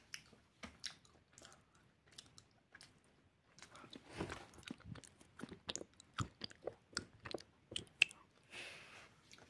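Reese's American peanut butter candy being chewed close to the mic, with irregular wet crunching and squishy bites repeating steadily and growing busier toward the end, without talk.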